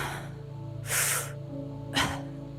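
Two quick, forceful breaths for a meditation breathing exercise, each a sharp airy rush sucked in and released, close and loud over a low steady musical drone.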